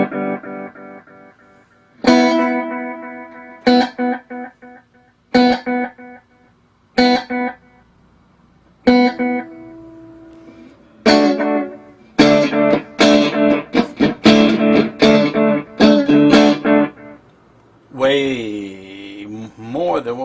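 An electric guitar plays through a Donner/Mooer mini pedal board with a slapback echo: loud, separate plucked notes and chords ring out and decay, then come quicker strums and a bent, wavering note at the end.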